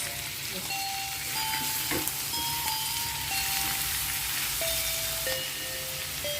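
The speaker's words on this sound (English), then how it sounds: "Keep flame in medium and continue frying for 5 to 6 minutes." Sliced onions and baby potatoes with salt and dry basil frying in a pan over medium flame, a steady close crackling sizzle with scattered pops throughout.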